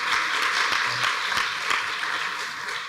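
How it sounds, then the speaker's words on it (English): Audience applause at a talk, a steady dense wash of clapping from a crowd that holds at an even level throughout without speech. "Round of applause, please."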